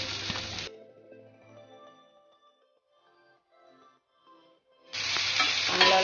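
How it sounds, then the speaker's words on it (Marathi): Onion frying in oil for a spicy Maharashtrian dubukle curry, loud sizzling at the start and end with a quieter, fainter stretch in between. "कांदा भाजून घेऊया."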